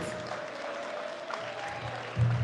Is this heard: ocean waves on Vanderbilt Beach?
no